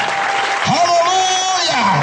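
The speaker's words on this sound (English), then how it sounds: "Give him the clap offering." Church congregation clapping in a dense, loud wash, with tonal singing or voices running over it throughout.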